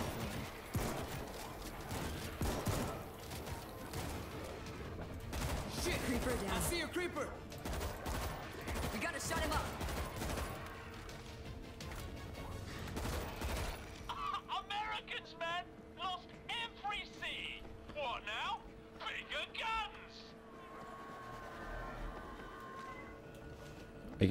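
Shotgun blasts aimed at zombies in the video game World War Z, scattered loud bursts mixed with game noise and frequent talking, then fading as the firing stops in the last stretch.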